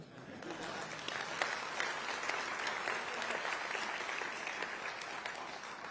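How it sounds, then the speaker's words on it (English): Faint, distant applause from a large Conservative Party conference hall audience, a steady wash of clapping that carries on evenly throughout. "you can applaud that if you want"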